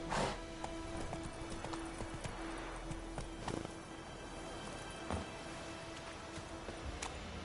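Hooves of the horse Roach clip-clop on the ground in The Witcher 3, a steady nearby walking rhythm over faint ambient background, with a brief snort near the start.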